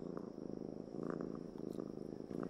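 A cat purrs steadily and close up, a continuous low rumbling throb with soft rhythmic pulses, heard alone in an animated fantasy film scene.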